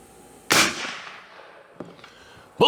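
A single sharp, loud report from a lever-action .30-30 rifle firing Remington Core-Lokt Tipped ammunition outdoors, decaying quickly, followed by faint handling clicks and a second abrupt sound at the very end.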